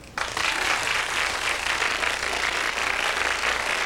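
Applause from a studio audience at a talk show, a dense, steady wash of clapping that starts abruptly and holds at full strength without letting up.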